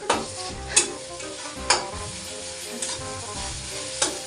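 A spoon scrapes and stirs prawn curry in a pan with added salt, sizzling steadily beneath several sharp stirring clacks spaced about a second apart, close and fairly quiet with no talking.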